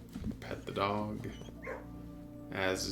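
Dog in the video game Blue Prince barking after being petted, a few close, clear yips and barks with a whimpering tone, over soft game music.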